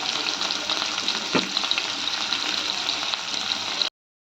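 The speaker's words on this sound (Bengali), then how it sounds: "তো পেঁয়াজগুলো ভেজে নিয়েছি" Chopped onions fry in hot oil with cloves, cardamom and chillies in a pan, a dense, even sizzle held close and steady for several seconds before cutting off.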